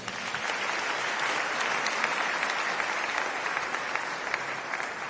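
A church congregation applauds for about five seconds, a dense, steady wash of many clapping hands with no voices standing out.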